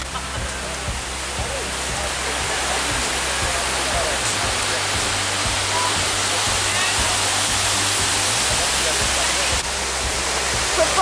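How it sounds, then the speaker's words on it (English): Water from a waterfall at Plitvice streams down into a ravine, a loud, continuous broadband roar that fills the whole moment, with a faint voice underneath. "this is another one that is connecting from the big waterfall. It just streams all the way down there to the ravine."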